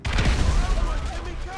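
A grenade blast in the video game GTA V, a loud, dense booming burst with rumbling crackle right from the start, sustained over a second and a half.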